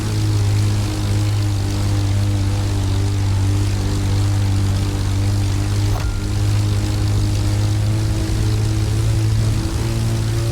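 Propeller plane engine in The Crew Motorfest racing game during a Red Bull Speed Clash event against a race car, a loud steady droning hum held at constant pitch throughout.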